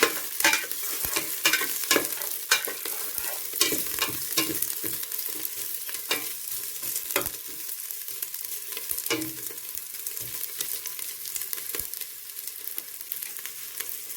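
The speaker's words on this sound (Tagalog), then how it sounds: "Haluin lang natin." Garlic and ginger fry in hot oil in a pan while a utensil stirs them, making a dense crackling sizzle punctuated by frequent sharp scraping strokes, close and steady for the whole stretch, without speech.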